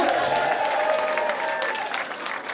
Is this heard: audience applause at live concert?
yes